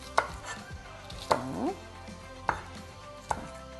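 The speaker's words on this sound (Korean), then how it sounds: "썰어주세요." A knife cuts green onions in half on a cutting board while making Korean beef and radish soup: four crisp chops spaced about a second apart, close and clear, with a brief scrape between them.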